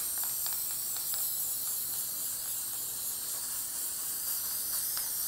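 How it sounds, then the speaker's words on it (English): A continuous aerosol can of red spray paint hisses steadily, with a few faint clicks and taps scattered through it; no voices. "I'm gonna spray paint it now."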